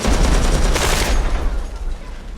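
A dense burst of rapid gunfire from a scene in the TV series Good Omens rings out loud and close for about a second. It then fades into a rumbling tail.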